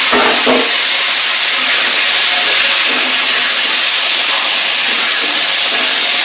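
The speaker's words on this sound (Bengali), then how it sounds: "আলুগুলো ভাজা ভাজা করবো, আলুগুলো ভালো করে ভাজবো।" Cut potatoes frying in oil in a home kitchen, already seasoned with dried red chillies and five-spice, give a loud, steady sizzling hiss that holds evenly throughout with no voices.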